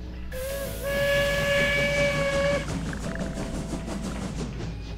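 A video game train in What The Golf gives a loud steam whistle over a chugging rumble and hiss, the whistle holding for a couple of seconds before fading into rhythmic rolling clatter.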